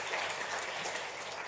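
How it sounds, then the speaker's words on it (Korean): A church congregation at a Sunday worship service claps to welcome visiting friends, producing a soft, distant, even patter of many hands that continues steadily without any speech. "박수로 환영하겠습니다."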